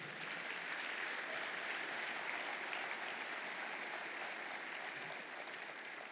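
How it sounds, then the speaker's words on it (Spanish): Dense, continuous applause from a church congregation praising the Lord, a steady broadband roar of many hands clapping at moderate level throughout, with no break. "¿Cuánto le dan un aplauso al Señor por eso?"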